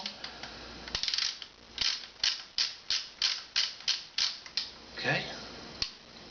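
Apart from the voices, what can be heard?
screwing shotgun barrel end cap back on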